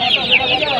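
Chickens clucking in a busy poultry market, a dense, close chorus of overlapping high cackles over a continuous crowd murmur.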